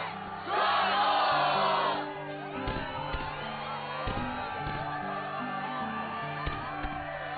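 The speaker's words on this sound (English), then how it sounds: "the crowd is fired up, so you know what comes next" A stadium crowd in the video game Kingdom Hearts II roars and cheers loudly in a brief burst, then settles into a steady murmur under game music for the rest of the stretch.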